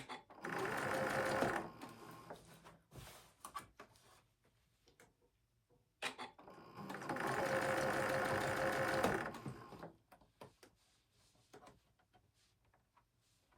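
A sewing machine stitches zigzag on a bone-shaped neck pillow, running in two steady bursts of rapid mechanical ticking, each a couple of seconds or more long, separated by a brief pause and a few quieter handling clicks and knocks.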